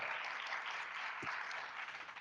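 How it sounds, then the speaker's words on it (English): An audience at a Black community keynote event claps for an administrative assistant, a soft, sustained patter of applause from many people heard from some distance and tapering slightly toward the end. "Let's clap it up for her."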